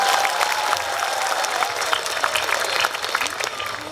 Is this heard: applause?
yes